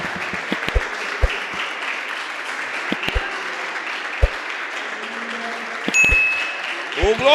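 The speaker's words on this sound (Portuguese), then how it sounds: "Aplauda o Senhor, glorifique ao nosso Deus." A church congregation applauds in a steady, sustained wash of clapping from a crowd, with occasional bell-like pings and a voice rising near the end.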